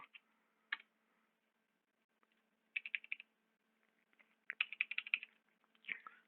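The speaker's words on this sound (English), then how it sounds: "I'm going to just type that here so I know." Short bursts of keys tapped on a computer keyboard, quiet and close, in a few separate clusters with pauses of near silence between them.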